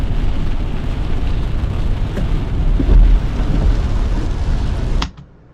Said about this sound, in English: there's no music in the background, but there's just general rain sound effects